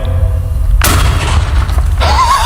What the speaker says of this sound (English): Oh, huge explosion at the front there, and we just have pieces like shattering out everywhere.